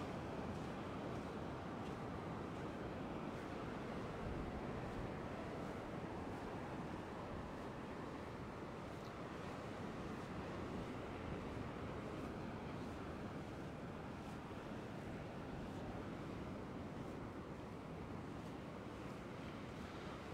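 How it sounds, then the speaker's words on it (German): Sea waves wash onto the beach at Side in the evening, a steady, even roar of surf that goes on without a break, soft and somewhat distant, mixed with light wind noise and no voices. "Das war der Meeresrausch, der Wellenrausch, sagen wir mal eher"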